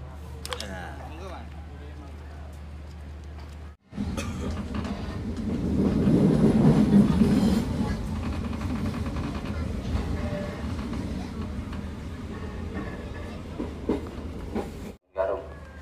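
Penataran commuter line train on the Surabaya Kota to Blitar route via Malang, a steady rumbling run with rail noise swelling near the middle, with voices or other sounds mixed in and brief cuts near the start and end.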